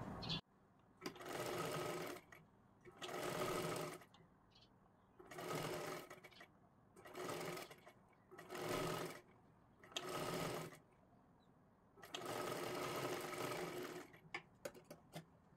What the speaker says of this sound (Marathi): असं पकडा व्यवस्थित आणि इथे कडेला एक शिलाई मारून घ्या.